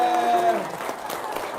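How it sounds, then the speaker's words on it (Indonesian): An audience at a religious talk breaks into applause, a short burst of clapping that fades slightly over about a second and a half, with a voice briefly mixed in. "Tepuk tangannya."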